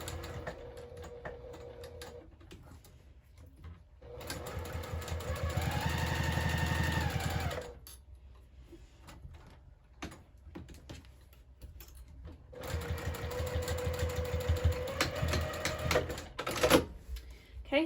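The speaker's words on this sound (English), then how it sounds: "I am just doing a quick back stitch over those." A sewing machine back stitches across a fabric wallet pocket in rapid rattling bursts, one long run in the middle and another near the end, separated by quiet pauses.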